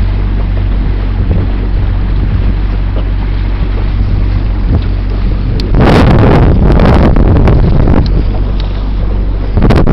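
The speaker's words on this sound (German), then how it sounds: "Jetzt kommen schöne Boote." Boats move on the Baltic Sea near old fishing cutters, a steady low rumble of engines and water under heavy wind buffeting the microphone, with a louder burst of splashing and knocking midway.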